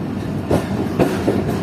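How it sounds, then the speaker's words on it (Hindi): A passenger train rolls along a loop line near Jhalar station, steady rumbling wheels with a few rhythmic clickety-clack thumps over rail joints, heard from on board with no voices. "हमारी ट्रेन लूप लाइन पर लग रही है"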